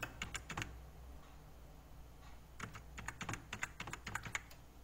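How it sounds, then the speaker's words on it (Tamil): Quiet keystrokes on a computer keyboard come in quick bursts, a cluster at the start, a pause, then a longer run of rapid taps, close and faint with no talk. "அதில் டைப் பண்ணுங்கள்."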